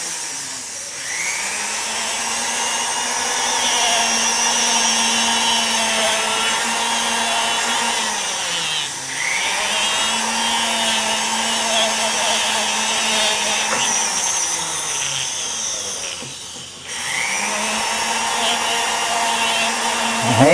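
A polishing machine motor runs steadily and loud, its high whine holding pitch with two brief dips as load changes, close up with no talk.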